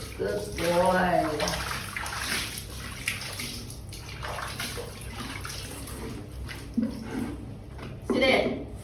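A monkey swims and splashes in water, with continuous sloshing and splashing throughout and a voice speaking over it.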